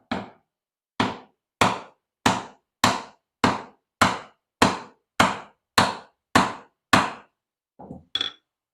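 A wide wood chisel is driven into wood with twelve sharp, evenly spaced strikes at close range, followed by two softer knocks, with no talk.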